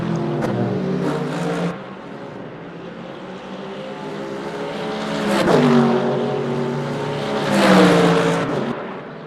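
A race car engine in the Le Mans Ultimate video game at Sebring howls through gear changes, swelling and fading as it passes, with rising revs and sharp shifts around the final lap's chicane.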